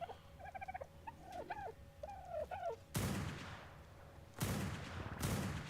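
Blasts from a fabricated sniper rifle in the video game Ark, with two loud, sharp reports that ring out after a stretch of gobbling turkey-like creature calls.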